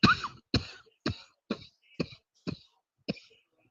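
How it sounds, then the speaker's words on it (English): A series of seven sharp coughs, close and fairly loud, spaced about half a second apart with brief silences between them. "The coughing is coming."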